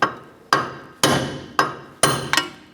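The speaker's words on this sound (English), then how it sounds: "We're just going to use our hammer and go ahead and smash that through to the other side." A hammer drives a wheel stud out of the hub on a 2004-2008 Acura TL, six sharp metallic blows landing about half a second apart, loud and close with short ringing decays.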